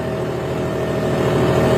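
A John Deere 5210 tractor engine runs steadily at a fixed idle-to-mid speed, a continuous low, rumbling drone that holds evenly throughout with no voices over it.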